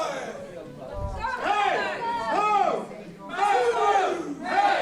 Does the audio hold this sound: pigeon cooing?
no